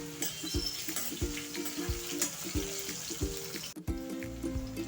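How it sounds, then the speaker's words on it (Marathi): Bitter gourd (karela) pieces fry in hot oil with a steady, fairly quiet sizzle, broken by light clinks and scrapes of a utensil against the pan. "तेल गरम झालेलं आहे, थोडे थोडे कारले सोडायचे आणि छान फ्राय करून घ्यायचे"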